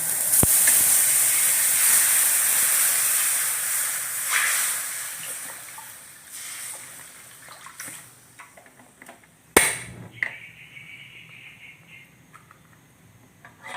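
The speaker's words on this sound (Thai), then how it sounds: "เราจะเท กะทินะคะ ยี่ห้อไหนก็ได้นะคะใส่ไปนะค" Boxed coconut milk for a Thai curry hitting a hot pan, a loud broad hiss that slowly fades, then a sharp clatter and quieter bubbling sizzle with scattered small knocks.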